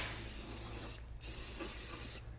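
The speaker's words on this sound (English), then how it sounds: "We'll spray some convert in there." Rust converter sprayed from an aerosol can onto a 1965 Chevy, a close, loud continuous hiss broken by two brief pauses, with no talk.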